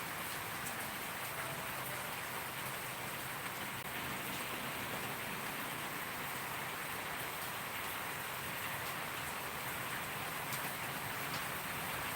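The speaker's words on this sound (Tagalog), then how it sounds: "Hindi na tumigil ang ulan." Steady rain falls continuously, a dense even hiss of drops pattering on surfaces, with no voices.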